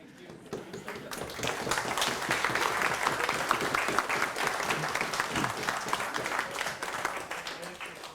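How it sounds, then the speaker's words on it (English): Sustained applause from a lecture audience at a fiscal policy course, steady dense clapping that swells after the first second and holds loud throughout without voices. "thank you very much for the applause"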